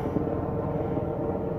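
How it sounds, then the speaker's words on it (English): A helicopter flies overhead at night above a graffiti spot in Las Vegas, making a brief, steady rotor and engine roar that fills the air at even loudness without a break. "some kind of helicopter highway right above me."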